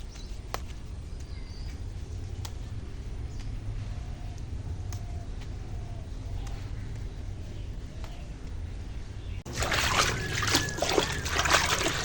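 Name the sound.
jute leaves being washed in water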